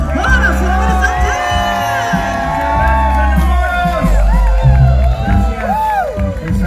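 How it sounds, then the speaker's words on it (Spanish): Concert crowd at a live show in Anamorós, La Unión, El Salvador, cheering and whooping loudly over sustained music with singing, a dense roar of voices throughout. "¡Fuerte el aplauso para el maestro!"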